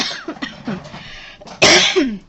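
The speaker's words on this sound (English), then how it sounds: "I'm still dealing with a little bit of coughing issues from my cold" Several harsh coughs from a person with a cold, a rapid run of smaller hacking bursts building to one louder, fuller cough near the end, close and dry with no talking.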